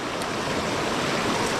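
A river flows along its bank, a constant close wash of rushing water with some wind buffeting, with no voices.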